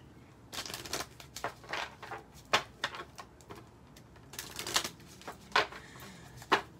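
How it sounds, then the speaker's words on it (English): Tarot cards are shuffled by hand in repeated crisp riffling bursts, each a rapid flutter of snapping card edges, fairly close and with no voices. "Spirit is telling me to shuffle these quite a few times."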